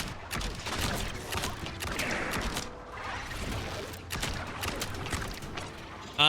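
A basic pea shooter gun in the video game Wizard with a Gun fires in rapid, dense bursts of shots mixed with clattering game effects, steady and loud across the whole stretch.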